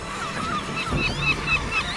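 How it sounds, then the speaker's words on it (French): A gull calling near puffins on the Scottish coast, a few short, harsh, nasal cries repeated in quick succession at moderate distance over steady wind and sea noise. "un goéland a repéré le manège et va tenter de voler la moisson"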